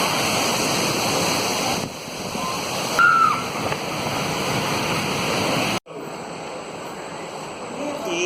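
A waterfall near a cave at Cachoeira Iracema in Amazonas, Brazil, heard as a continuous, loud rush of falling water. The sound cuts abruptly partway through and resumes softer and more distant, with a brief tonal chirp over it.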